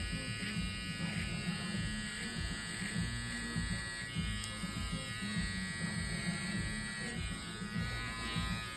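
Close, steady electric buzz of an FX1 trimmer cutting hair over a comb, with faint rhythmic changes in the hum as the comb passes repeatedly through the hair; no talking.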